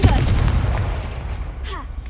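A Confringo fire spell explodes in Hogwarts Legacy, opening with a loud booming blast whose low rumble fades over about two seconds beneath the game's ambient sound.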